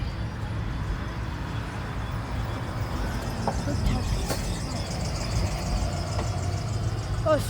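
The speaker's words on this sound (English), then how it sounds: "Oh, school buses, huh?" School buses passing on a windy, stormy day, a steady low rumble of engine and road noise with gusts of wind noise over the microphone and brief voices in the background.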